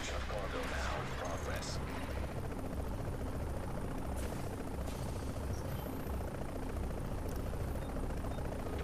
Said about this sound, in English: Find the nearest extraction point, shoot a flare, and hold tight until the helicopter arrives.